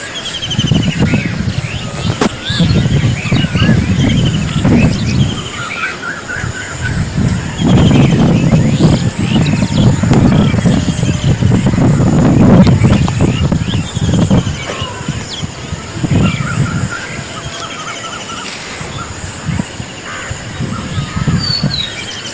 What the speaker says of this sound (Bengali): এই সকাল সকালে পাখিরা কেমন ডাকছে শুনুন